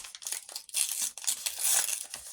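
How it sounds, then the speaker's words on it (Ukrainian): A paper packet is torn open close up, with crisp crinkling and tearing in quick bursts that swell into longer rips. "Та потрібно якось відкрити пакетик"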